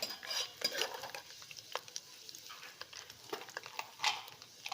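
Dried red chilies fry in a pan of hot oil with a light, crackling sizzle, while a spoon stirs and scrapes now and then, close up and fairly quiet.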